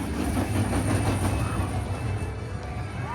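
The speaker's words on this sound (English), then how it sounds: "And over here is the Junior Roller Skating roller coaster." A small junior roller coaster train with roller-skate cars rumbles and clatters along its track nearby at an amusement park, a continuous rolling roar with rhythmic clacking.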